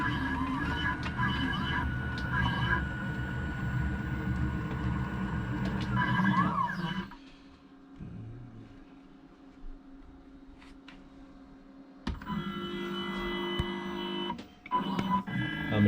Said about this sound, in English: I'm just going to jog the machine back and quickly home it.